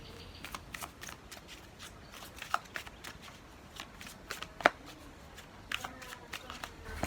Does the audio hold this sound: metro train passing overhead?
no